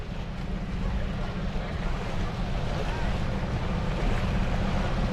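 Racing boats on Lake Tholocco sprint from a flag start, a dense steady engine roar mixed with wind and water noise, loud and continuous throughout.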